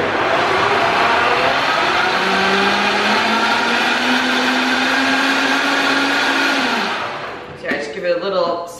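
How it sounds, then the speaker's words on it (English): A Vitamix blender whirs on low speed, mixing collagen into a smoothie with a loud, steady motor drone and a gently rising whine for about seven seconds before it stops, leaving clinks of a cup. "So I blend the collagen."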